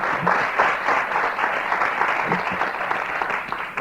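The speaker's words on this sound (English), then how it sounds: "Would you give the Lord a hand clap for that?" Hand clapping from a church audience rises and holds as a dense, even wash of applause for a few seconds before tapering slightly.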